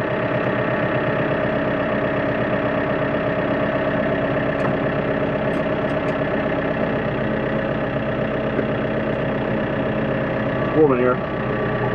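A cold engine idles steadily while it warms up before work taming overgrown trees and jungle, a constant close drone with a faint knocking pulse. Someone speaks briefly over it near the end.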